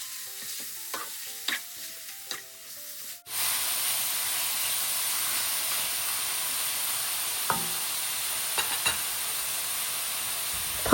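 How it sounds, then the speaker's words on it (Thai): After a few light taps at the start, minced pork hits a hot pan over medium-high heat and sizzles loudly and steadily. Occasional scrapes from stir-frying sound up close, with no talking. "ใส่หมูสับลงไป ใช้ไฟกลางค่อนข้างแรง ผัดให้กระจายตัว"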